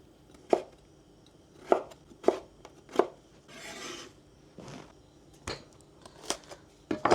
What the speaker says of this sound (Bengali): ফুলকপিগুলো ছোট ছোট করে কেটে নিচ্ছি